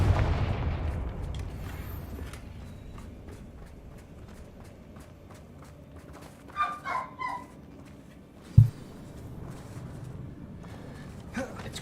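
Confringo spell blasts in a Harry Potter video game: a few quick popping bursts followed by one sharp, loud explosive crack against quiet game ambience.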